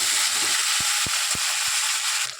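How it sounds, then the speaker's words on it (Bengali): Taro and potato pieces fry for a prawn curry, giving a dense continuous sizzle up close, with a few distinct low thuds or knocks against the pan before the hiss fades out at the end. "দেখুন এটা আমার ভাজা ভাজা হয়ে এসছে।"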